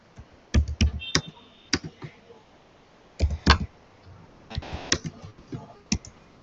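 Computer keyboard typing a nodemon command to start a server: irregular clusters of sharp, close key clicks and taps with short pauses between bursts, no talk over them.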